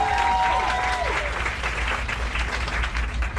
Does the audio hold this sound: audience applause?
yes